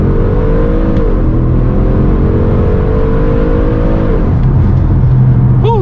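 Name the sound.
Audi RS6 engine revving with resonator delete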